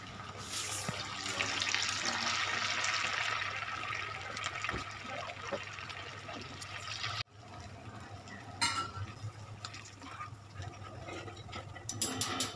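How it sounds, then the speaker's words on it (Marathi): Sabudana vadas fry in hot oil with a continuous soft hiss and sizzle. Occasional bubbling pops and a brief break sound partway through. "एक एक वडा तेलामध्ये तळून घेऊयात"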